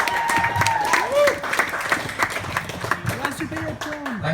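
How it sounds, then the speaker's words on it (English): An audience claps at a small, sold-out awards evening, a light scattered applause from a modest crowd, heard close with voices talking over it. "applause."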